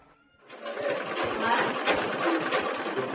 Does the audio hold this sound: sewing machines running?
yes